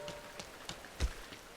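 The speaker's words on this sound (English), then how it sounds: "as she exposes her hands to the rain" Rain falls in the video game Rain, a soft, steady patter of drops on hard surfaces with a few louder splashes, quiet and without voices.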